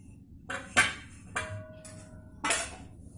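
Jaggery being mixed in a pan for til laddoo (tilkut) makes a few sharp, close metallic clinks and knocks, one leaving a brief ringing tone, over a quiet background.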